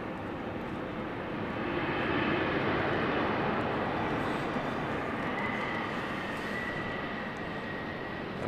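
Embraer jet moving at London City Airport, a steady loud broadband engine roar that swells slightly in the middle and holds through the whole stretch, with no voices over it.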